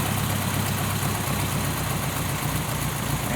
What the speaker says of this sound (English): you notice the change in RPM, so it's kind of bogging down